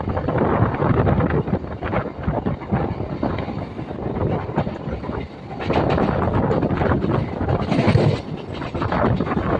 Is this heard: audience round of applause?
no